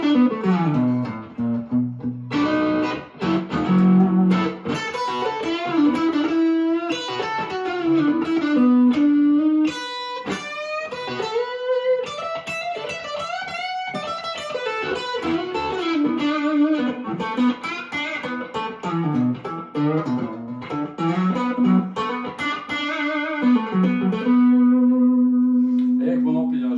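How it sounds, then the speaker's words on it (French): An EKO V-NOS TERO Vintage White electric guitar goes straight into a Marshall amp set to medium overdrive with no pedals, playing loud, continuous gritty riffs and sustained notes up close for nearly half a minute. "c'est le son du Marshall en position intermédiaire"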